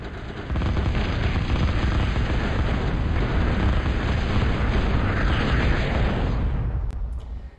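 Sustained heavy bombing in a real-time strategy game as bombers strike enemy metal makers, a Moho metal maker and an advanced lab: a dense, continuous roar of overlapping explosions for several seconds, loud throughout, then cutting off abruptly.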